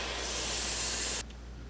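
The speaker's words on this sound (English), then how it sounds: "We're not actually painting on the bait, we're painting on the stencil." A short, loud burst of spray paint hisses through a stencil onto a fishing bait for about a second, then cuts off abruptly, leaving quiet room tone.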